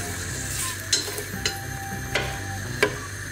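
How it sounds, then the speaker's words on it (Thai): Garlic, crushed and dropped into a pan while making Italian-style mussels, sizzles in a soft steady fry with a few sharp clicks of stirring against the pan. "ใส่กระเทียมลงไปพอทุบๆนะคะ"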